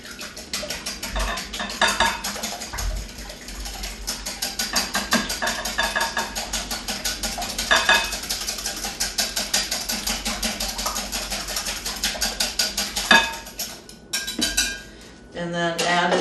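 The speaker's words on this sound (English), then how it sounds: "we're going to combine a cup of buttermilk, an egg, and a 1/4 cup of canola oil, and we're going to whisk that together" A whisk beats buttermilk, an egg and canola oil together in a bowl, giving rapid rhythmic clinking against the sides that carries on steadily, then briefly pauses near the end.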